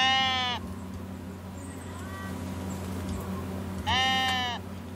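Sheep bleats in the cozy building game Tiny Glade: two clear, wavering bleats, one at the start and one near the end, over a soft ambient drone, with faint higher chirps between them.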